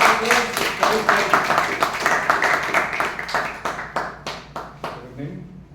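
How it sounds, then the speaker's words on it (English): An audience at a live event claps in a quick, even patter that gradually thins out toward the end, with voices faintly underneath. "Please give a round of applause."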